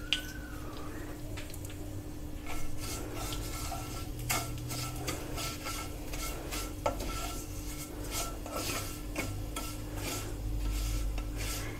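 Vermicelli being stirred in hot ghee in a pan, a steady low sizzle with repeated scraping and clinking strokes of the spoon against metal, close up and without talk.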